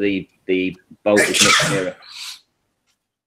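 A sharp, loud sneeze bursts out right after a few spoken words, close to the microphone, followed by a brief breathy trailing sound.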